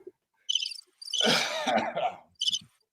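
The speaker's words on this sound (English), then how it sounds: "Got crickets" Rhythmic cricket chirps from a soundboard effect in short bursts, with a brief cough-like sound in the middle, played cleanly against silence.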